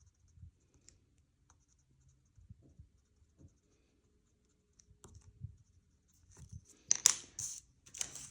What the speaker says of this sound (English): I'm going to again add just a little bit of detail to those blooms using a pen